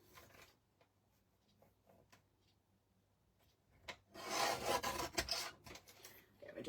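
A piece of wood is trimmed down with a rasping, sawing stroke that starts after a few faint taps and runs loud and close for a couple of seconds in a quiet room.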